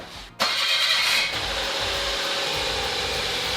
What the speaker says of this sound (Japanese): エンジンをかけてオイルを循環させます。